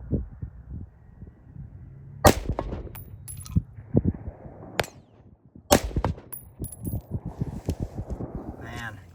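Green tip rifle rounds strike a steel plate in an anti-spall sleeve test, several sharp loud cracks with ringing metallic clangs spread across the clip, amid voices talking quietly between shots.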